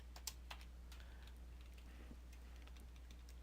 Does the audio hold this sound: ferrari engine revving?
no